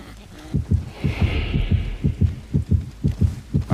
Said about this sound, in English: I don't want to see a third heartbeat show up here